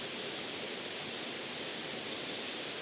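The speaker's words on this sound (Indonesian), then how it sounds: "Air jatuh dari ketinggian yang seolah-olah menyentuh langit." The second tier of the Lekan Ati waterfall pours in a steady, dense, hissing roar, constant and unbroken across the short stretch with no voices.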